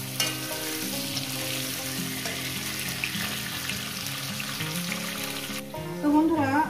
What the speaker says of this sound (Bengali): 4 থেকে 5 মিনিট টাইম ধরে ভেজে নেব